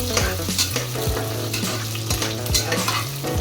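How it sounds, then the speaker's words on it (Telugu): Chopped onion for veg biryani frying in a pan, a loud close sizzle broken by repeated rhythmic spatula scrapes and stirs against the metal, with no voices. "ఒక పెద్ద ఆనియన్ కూడా కట్ చేశాను అవి కూడా వేసుకుంటున్నాను"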